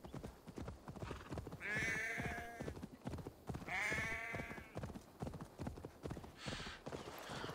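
Horse hooves clip-clopping in a video game, a steady rhythmic trot close by, broken by two loud whinnies and a fainter third call near the end.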